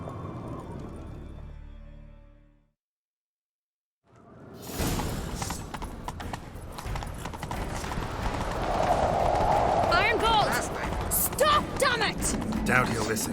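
Horse hooves clatter in The Witcher 3 as riders chase someone down, a rhythmic clip-clop building after a brief silence, with whooshing movement and game sounds layered around it.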